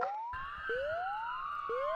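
A police car siren wails in a horror video game, with repeated rising electronic sweeps that sound loud and close, with no other sounds.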